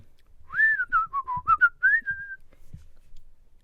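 A short, clear whistled tune of several quick notes ending on a held tone, close by and fairly quiet.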